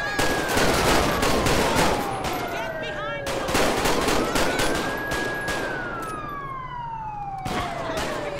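Heavy gunfire in GTA 5 with the LSPDFR police mod cracks in rapid, repeated bursts over a wailing siren that rises and falls, loud and continuous.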